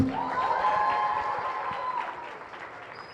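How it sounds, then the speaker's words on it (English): Applause from a conference audience for a juggling group at a TEDx event, a dense wash of clapping that is loudest at the start and gradually fades out. "Can we have a big round of applause for the juggling group?"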